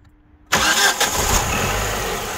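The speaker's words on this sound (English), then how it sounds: "Now start the engine." A car engine cranks and catches after a half-second of near silence, then settles into a steady, loud idle close by, with no speech.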